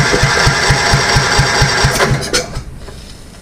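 A Goodall Chargall engine, abandoned in a field for years and newly unstuck, fires up and runs with a loud, fast, even chugging pulse close to the microphone, then sputters and fades out near the end.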